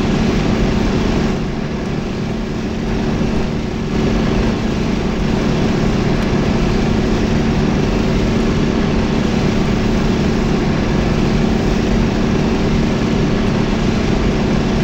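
Steady drone of a Spitfire's piston engine in a flight game, loud and continuous throughout with a constant low hum and no break.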